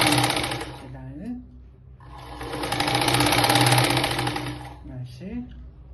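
A sewing machine stitching a blouse sleeve, its rapid whirring rattle running in two long bursts close by, easing off between them, while someone talks over it.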